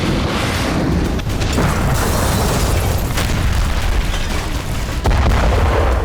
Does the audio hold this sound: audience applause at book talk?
no